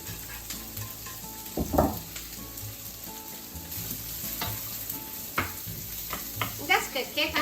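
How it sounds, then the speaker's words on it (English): Vegetables sizzle and crackle in about a tablespoon of hot vegetable oil in a frying pan, with occasional clinks and stirring scrapes of a utensil against the pan. "Let's put about a tablespoon vegetable oil into the frying pan. All the vegetables in."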